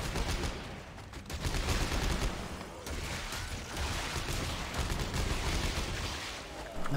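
Sustained gunfire in Dead Space 3, dense rapid shots rattling continuously and loudly for several seconds, with brief dips in intensity and no voices over it.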